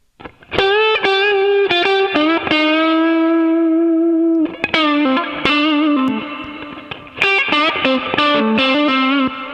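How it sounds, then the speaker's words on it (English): Melodic bass notes ring out with long echoing repeats and a wash of reverb, phrases sustaining and overlapping before a busier run of notes returns. "Quite heavy on the delay, and then some reverb"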